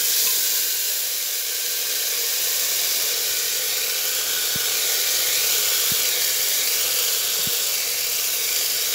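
Spices and ginger-tomato paste sizzle steadily in a hot pan while being stirred, a constant close frying hiss with a few soft knocks from the spoon.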